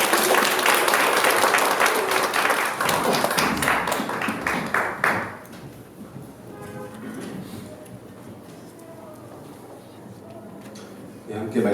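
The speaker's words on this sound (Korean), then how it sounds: "V팀들도 같이 한번 우리 박수하십시오." A church congregation, youth group included, applauds during a worship service. Loud, dense clapping fills the first five seconds and then fades into quieter scattered sounds and murmurs.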